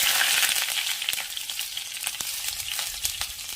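Garlic frying in a pan, a steady bright sizzle with small pops and crackles throughout, close and continuous with no voices.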